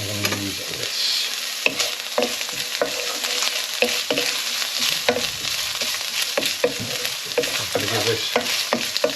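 Pork and kimchi fried rice sizzles and crackles steadily in a pan while it is stirred, with frequent close clicks and scrapes of the utensil. A voice speaks briefly near the start.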